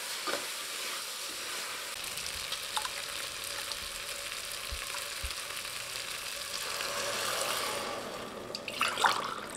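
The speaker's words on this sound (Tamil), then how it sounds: "நல்லா ஒன்று சேர கலந்து விட்டுக்கலாங்க" Soaked rice and water are stirred into a pot of tomato rice, giving a continuous wet sizzling swish with occasional clinks of the spoon against the pot, building slightly toward the end.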